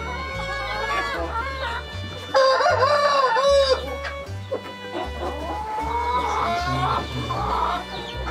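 Atak breed egg-laying hens cluck and cackle close by while a rooster crows loudly several times, over a low steady hum from the farm setting.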